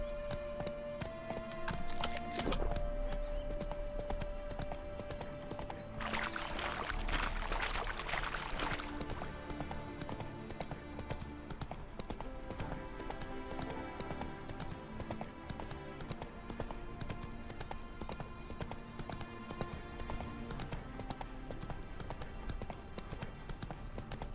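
Steady hoof clip-clop of a horse in The Witcher 3: Hearts of Stone, continuous over a dense musical and ambient backdrop, with a brief brighter burst partway through.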